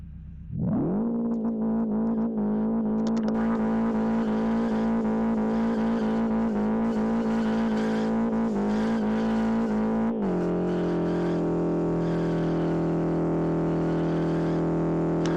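Car burnout in the Live for Speed racing game, throttle and brake held together: engine revs sharply then holds a loud sustained drone with a droning tire-spin tone, pitch shifting down near the end, no talking.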